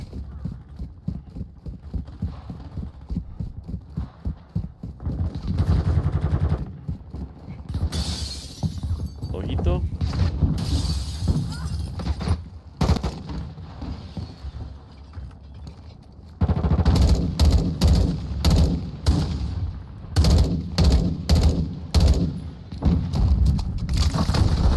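Gunfire from a weapon in the video game GTA rattles in loud, rapid bursts of repeated shots with short breaks between them, while someone talks over the action.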